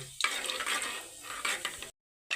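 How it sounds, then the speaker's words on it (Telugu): Cumin, mustard seeds and chana dal fry in oil in a pressure cooker, crackling and sizzling briskly up close with stirring, then cut by a brief silence before the sizzle returns. "పోపు దినుసులండి జీలకర్ర ఆవాలు శనగపప్పునైతే వేసేసుకున్నాను లైట్గా ఫ్రై అయ్యేంత వరకు వేయించేసుకుందాం"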